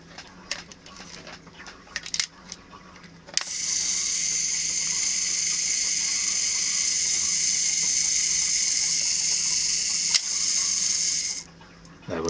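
A camera's self-timer mechanism runs with a steady, continuous whirring buzz for about eight seconds. A few light clicks and handling noises come before it, and it stops abruptly near the end.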